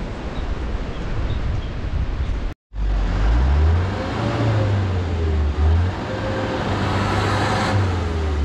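A lorry labours up a steep mountain slope on the way to Malana village, its low engine drone wavering in pitch as it strains, mixed with wind noise and a brief cut partway through.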